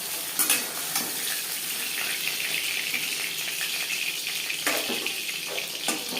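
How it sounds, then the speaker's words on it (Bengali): Pabda fish fry in oil, a continuous close sizzle broken by occasional scraping and stirring clatter from the pan, with no voices. "প্রথম ব্যাচের মাছ ভাজা হয়ে গেছে, একটা পাত্রে উঠিয়ে দেবো।"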